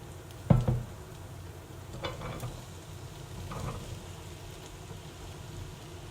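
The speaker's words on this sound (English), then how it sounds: "Now we'll add the potatoes" Diced potatoes dropped into a pot for a Serbian potato stew, a thud and rattle as they land, followed by a soft low sizzle and faint stirring.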